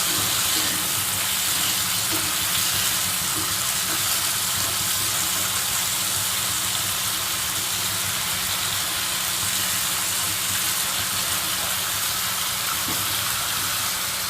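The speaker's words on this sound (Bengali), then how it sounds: "এই আলুটা পুরো সেদ্ধ হওয়া পর্যন্ত আমি এটাকে রান্না করব।" Potatoes fry in a pan for a Spanish omelette, a dense, steady sizzle and hiss with faint popping that continues unbroken and fairly loud throughout.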